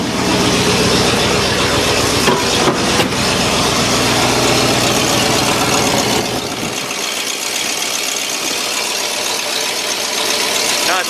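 A 1963 Oldsmobile engine fitted with a new electric fuel pump runs loud and close, a steady rumbling idle that eases slightly in level partway through.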